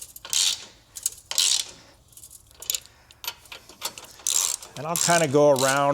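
A hand ratchet tightens the base plate hardware nuts of a Blue Ox base plate kit on a 2025 Jeep Grand Cherokee. Repeated bursts of close metallic clicking alternate with someone talking.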